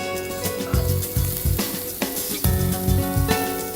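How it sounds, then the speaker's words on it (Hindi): One large, finely chopped onion fries in a small amount of oil with ginger and garlic, giving a steady close sizzle broken by rhythmic stirring scrapes. "और अब इसमें डालेंगे हम प्याज। यहाँ मैं ले रही हूँ 1 बड़ा प्याज जिसे मैंने बारीक काटा हुआ है।"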